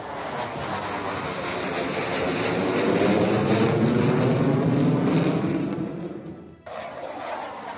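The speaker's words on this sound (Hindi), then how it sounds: "शो के दौरान लड़ाकू विमान परीक्षण के तौर पर हवाई पट्टी पर 1 मीटर की ऊंचाई पर उड़ान भरते नजर आए" Indian Air Force fighter jets flying low over the Ganga Expressway airstrip roar as a broad, sustained jet rush that swells for several seconds, drops off sharply, then continues at a lower level.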